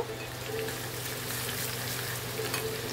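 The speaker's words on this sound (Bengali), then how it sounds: "এখন দিয়ে দেবো শুকনো লঙ্কা আর রসুন, দিয়ে একটু নাড়াচাড়া করব।" Dried red chili and garlic sizzle in hot oil with mustard seeds, a steady, dense crackling and hissing frying sound that stays even and close throughout.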